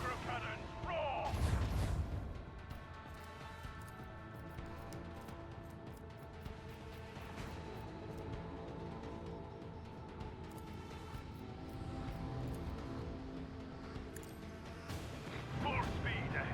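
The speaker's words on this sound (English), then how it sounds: "I want to hear the macro cannons roar." Macro cannons firing in the video game Rogue Trader, a heavy booming blast near the start and another at the end, framed by a low sustained musical drone and rumble.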